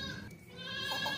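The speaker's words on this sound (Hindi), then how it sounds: "बहुत ही प्यारी खूबसूरत बकरी है माशाल्लाह से, काफ़ी ऊंची लंबी बकरी है" A tall, large goat bleats nearby, a short wavering cry near the end of a brief stretch of low background noise.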